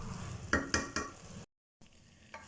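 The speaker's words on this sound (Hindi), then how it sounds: "10 मिनट इसकी मज़ीद भुनाई कर लेंगे ताकि घी जो है वो अच्छे से बीच में मिक्स हो जाए" Grated carrot halwa is stirred and roasted in desi ghee in a pan, with a low steady sizzle and a few distinct scraping strokes, then a brief gap and quieter frying.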